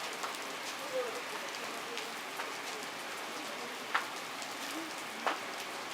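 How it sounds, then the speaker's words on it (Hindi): Light rain patters on surfaces during an outdoor yoga class at an old grain market, a soft continuous drizzle with a few sharper drops standing out now and then. "बारिश का माहौल है थोड़ा"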